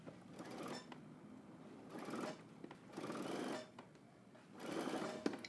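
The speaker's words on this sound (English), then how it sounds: "we're going to stitch this down using a 3/8 of an inch seam allowance." Sewing machine stitching a swim trunk pocket flap down, running in three or four separate bursts with brief pauses between them, moderately loud and close, with no talking.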